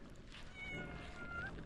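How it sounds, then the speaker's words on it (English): A pet cat on a leash outdoors in a California nature area gives a faint, short meow or two against a steady outdoor background hiss, with no talking. "And there's Kitty back here"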